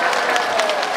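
Audience applause at an outdoor concert during a senior-appreciation festival in Gurye, Korea, a continuous even patter of many hands clapping at moderate distance, briefly filling the space alone.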